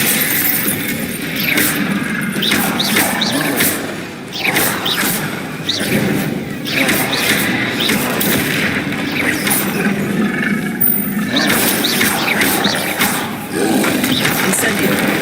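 Confringo blasting spell explosions in Hogwarts Legacy, with loud, continuous crashing and shattering bursts repeating throughout amid busy combat noise, briefly dipping a couple of times before resuming.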